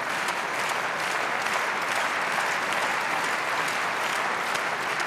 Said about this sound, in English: The crowd certainly enjoying this absorbing semi-final.